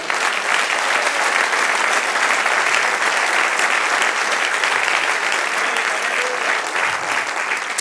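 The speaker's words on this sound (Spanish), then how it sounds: "Dale un aplauso al Señor." A church congregation claps and applauds steadily, a dense and loud wash of hands continuing for several seconds with no pause, heard close and filling the room.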